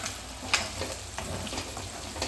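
Prawns sizzle in a pan as they brown, a steady close crackle broken by occasional sharp spits and light stirring scrapes, with no voices.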